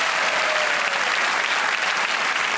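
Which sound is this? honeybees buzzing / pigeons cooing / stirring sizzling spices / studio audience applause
studio audience applause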